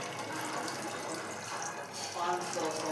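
Water running steadily into a bowl while making dhokla in a home kitchen, a continuous splashing stream with faint voices in the background.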